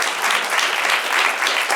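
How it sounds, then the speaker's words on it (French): A brief burst of loud audience applause at an improv match, dense clapping filling the whole short moment at a steady level. "Applaudissez-vous, yes, bravo. Bravo à vous autres."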